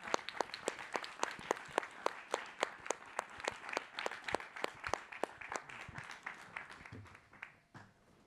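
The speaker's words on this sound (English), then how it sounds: "let's everyone give a round of applause" An audience at a dinner event claps in a steady, even rhythm, sharp and close at first, then thinning and fading toward the end.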